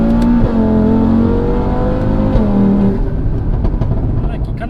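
A 520 bhp Audi RS3 accelerates hard, its engine note loud and close, rising in pitch through the gears with a brief dip around a shift; a person talks over the engine.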